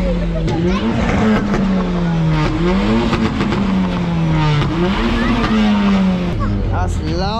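A car engine at a car show revs loudly and continuously, its pitch rising and falling through several rev cycles up close, with voices talking over it.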